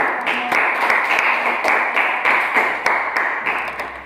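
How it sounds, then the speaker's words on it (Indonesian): Classroom applause from students after a group answers a geography question, many hands clapping steadily at close range with sharp individual claps standing out, a faint voice briefly audible underneath. "berikan tepuk tangan"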